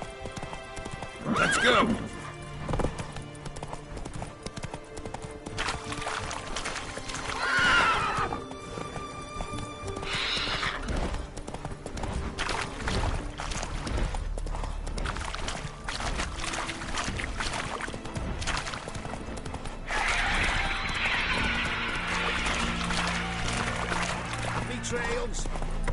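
Roach, a horse in The Witcher 3, gallops with continuous rhythmic hoofbeats, whinnies loudly several times, and splashes through water, while someone shouts briefly.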